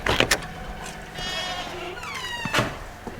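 Goats on a farm bleating near and loud, several wavering calls overlapping in quick succession with brief knocks between them.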